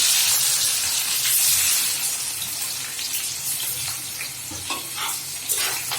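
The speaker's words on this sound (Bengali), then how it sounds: "পেঁয়াজগুলি একটু ভেজে নেব, তো হালকা করে ভেজে নেব পেঁয়াজগুলি" Onions added to a pan of already-fried chillies hiss in a loud, steady sizzle up close. It eases slightly partway through, and scattered scraping clicks of stirring break through near the end.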